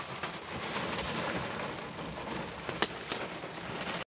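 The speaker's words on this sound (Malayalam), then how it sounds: "എന്താ വെളിയിൽ ഇറങ്ങാൻ പറ്റുന്നില്ല, മഴ." Rain at Ponmudi hill station in Kerala pours in a steady, even wash of hiss, fairly quiet and distant-sounding, with a few sharper drop taps standing out late.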